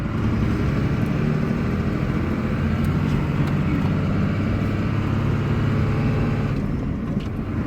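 A Little Red Cummins dually hotshot truck's diesel engine idles while warming up, a loud, steady, rumbling drone that holds throughout, close by, with no talk.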